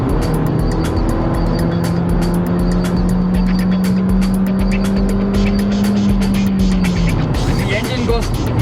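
A Kia Koup engine holds a steady, loud drone under heavy road and tire noise, rising into a sustained note for several seconds before easing off near the end.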